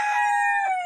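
A rooster crows once beside a backyard aviary in a vegetable garden: a single loud, close cock-a-doodle-doo with a bright, strained, ringing tone that fades at the end.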